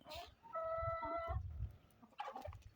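A broody hen gives a drawn-out, croaky clucking call up close, with a few softer clucks and rustling around it.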